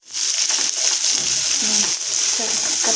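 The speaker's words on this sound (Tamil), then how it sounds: "இதை நல்லா வதக்கிங்க பொன்னிறமாக வர வரைக்கும்" Onions sautéing in oil in a kadai, a loud steady sizzle broken by soft spatula stirs and shuffling close by.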